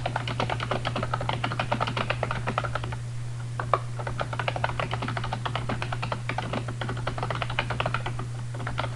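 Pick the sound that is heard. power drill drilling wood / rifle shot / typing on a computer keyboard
typing on a computer keyboard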